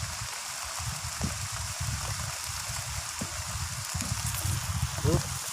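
Heavy rain pours down steadily during eel fishing outdoors, a constant hiss of falling water with occasional splashes.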